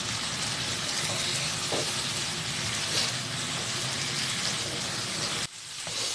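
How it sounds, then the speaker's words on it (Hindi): Kaleji (liver) frying in a pan with masala and half a tablespoon of soy sauce, a steady dense sizzle and crackle filling the whole stretch, briefly dipping near the end. "और अच्छे से फ्राई कर लेंगे।"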